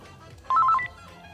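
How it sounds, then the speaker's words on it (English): A phone ringing during a podcast recording, a short burst of quick, trilling electronic ring tones sounding once, fairly clear against a quiet background with no talk over it. "My phone going."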